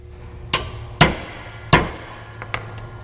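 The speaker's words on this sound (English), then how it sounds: "Give it a little whack." A hammer strikes a punch into a blind hole while a lawn striper is fitted to a 2016 Bad Boy 60-inch mower deck, three sharp metallic blows followed by two lighter taps, close and distinct.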